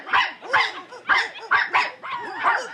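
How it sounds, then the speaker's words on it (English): Several dogs barking in quick succession, a rhythmic run of five or six sharp barks with some yips, close and loud on a vintage vinyl recording. "But they're all dogs."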